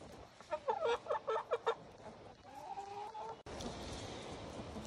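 Chickens in a bedded coop give a quick run of about eight close, clear clucks, then fall to quieter murmurs over a soft background hiss.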